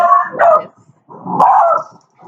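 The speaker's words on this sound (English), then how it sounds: "Dogs are saying hello." A dog barks loudly up close, two drawn-out, yowling barks separated by a short pause, with no speech.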